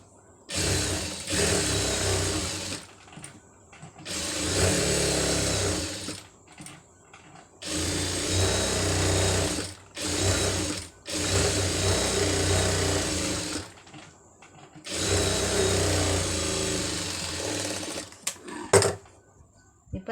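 A sewing machine stitches along a blouse edge in several bursts of rapid, steady mechanical whirring, each run lasting a few seconds and separated by short pauses, close and clear.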